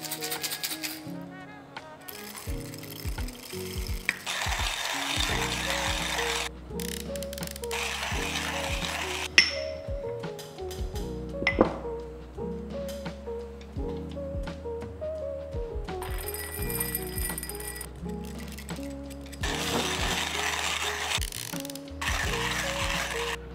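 Coffee beans turning through a hand grinder, a busy run of ratcheting, gritty mechanical crunching and clicking with stop-start bursts, close and fairly quiet.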